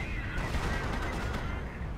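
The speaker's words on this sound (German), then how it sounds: "Die ganze Zeit werde ich beschossen." Dense, continuous gunfire and battle noise from the real-time strategy game Company of Heroes, a loud steady barrage of overlapping shots and rumble with no clear pauses.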